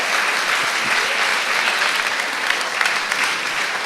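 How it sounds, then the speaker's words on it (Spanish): An audience at a public talk in Reus breaks into dense, steady applause that stays loud and even throughout, a sustained wash of many hands clapping. "un aplaudiment per ells perquè la cosa ha sigut complexa."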